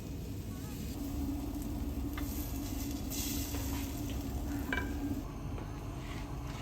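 Crêpe batter cooks on a hot griddle with a soft, continuous sizzle, faint and partly buried under a steady low rumbling background, with a couple of small clicks.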